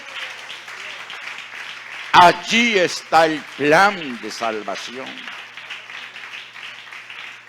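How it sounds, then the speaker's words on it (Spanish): Congregation applause at an evangelical church service runs as a steady wash of clapping beneath a preacher's loud, excited Spanish speech. "Fuerte ese aplauso al Señor de la gloria."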